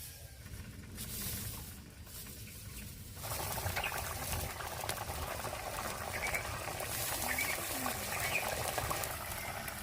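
Fish curry gravy bubbling in a pan makes a faint, continuous burble and patter that grows a little busier partway through, with no talk over it.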